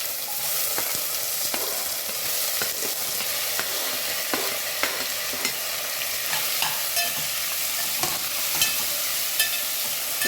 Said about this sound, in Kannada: ಈಗ ಈ ಪೈನಾಪಲ್ ಕಟ್ ಮಾಡಿದ್ದೀವಲ್ಲ ಅದನ್ನ ಹಾಕ್ತೀನಿ.